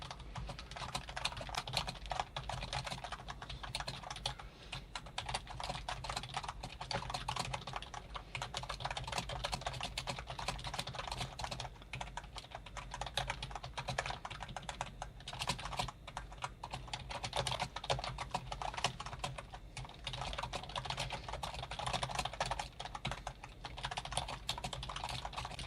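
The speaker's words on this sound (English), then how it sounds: "now I'll do a quick typing test to see how the keyboard feels" Steady rapid key clatter from a Bon.elk KM-322 slim wireless keyboard, typed on continuously and evenly for the whole stretch, close and clear with no talking.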